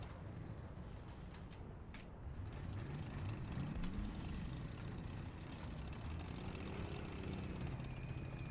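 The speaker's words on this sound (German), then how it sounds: "der Motor schreit, der Motor schreit, der Motor schreit" The engine of a Leopard 1 tank in War Thunder revs continuously with a rough low rumble and rising, shifting pitch, steady and fairly quiet throughout with no talk.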